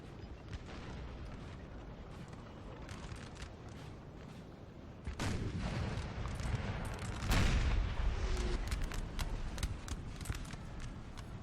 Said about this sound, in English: Still have the odd artillery piece, which is still breaking the odd battalion, French battalion, if it gets too close.